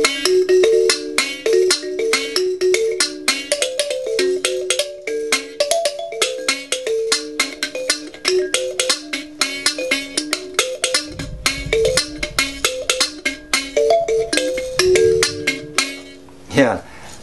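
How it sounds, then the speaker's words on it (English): A homemade kalimba built from a Brunswick herring sardine can plays a quick, bouncy run of plucked metallic tines, bright and lightweight in tone, steady for about sixteen seconds before a short thump ends it. "this one is made out of a sardine can"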